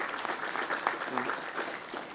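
Applause fills a city council meeting chamber, steady clapping from the attendees with faint voices mixed in.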